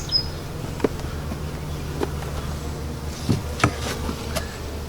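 Honeybees buzz around an Apimaye hive feeder with a continuous low drone, and a few louder individual bees pass close by the microphone.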